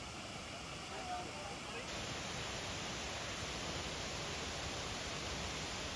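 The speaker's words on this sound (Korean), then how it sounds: "이번에는 시라이토라는 폭포에 가봤습니다" Shiraito Falls in Shizuoka, Japan, a broad waterfall about 200 m wide and 20 m high, gives off a constant, even roar of falling water from start to finish.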